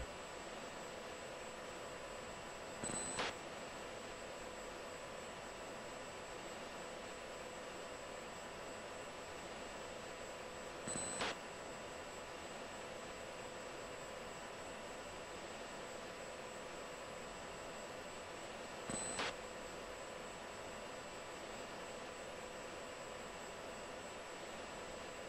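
An F-16 jet engine roars at takeoff power in the Falcon BMS flight sim, a steady, even drone throughout. Brief radio clicks break in three times at regular intervals.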